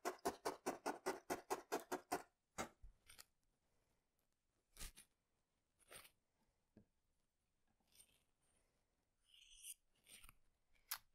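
Scissors cut brown wool felt for a flat-felted hare's muzzle: a quick run of about ten evenly spaced snips, then a few scattered, sparser clicks and cuts, close and fairly quiet.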